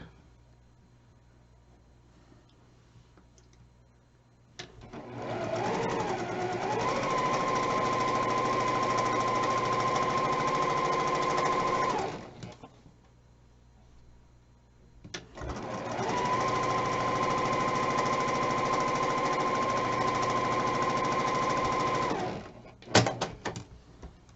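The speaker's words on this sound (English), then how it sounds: "I'm going to sew 1/4 inch on either side of the line" A sewing machine stitches quilt block corner units in two long, steady runs of several seconds each, separated by a short pause, with its whirring hum loud and close throughout.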